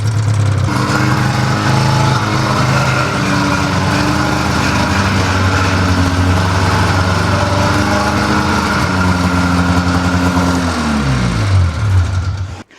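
An old snowmobile engine runs and idles steadily for a long stretch, loud and close, then drops in pitch and cuts off at the end.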